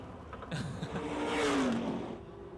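Race car at a speedway getting back into gear and accelerating away, engine note rising in a swelling rev against a broad hiss of crowd and track noise, no speech.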